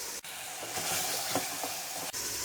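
Chicken pieces frying in a pan for Afghani pulao, a soft continuous sizzle with light stirring bumps, quiet and steady with no one talking.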